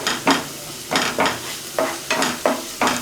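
Chopped green chillies fry in a pan for mutton roti curry while a spoon stirs them in about six quick scraping strokes over a soft, steady sizzle, close up with no talking.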